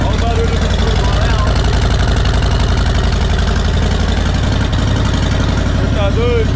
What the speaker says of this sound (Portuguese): Olha o barulho do turbo, né?